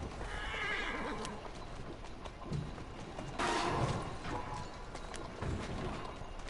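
A horse in Assassin's Creed Syndicate whinnies loudly, with hooves clopping and shuffling around it, plus a few thuds; no one talks.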